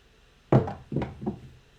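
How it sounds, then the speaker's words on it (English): Dice thrown onto a craps table, a sharp first impact followed by two quicker bounces and knocks, close and clear against near silence. "Dice out."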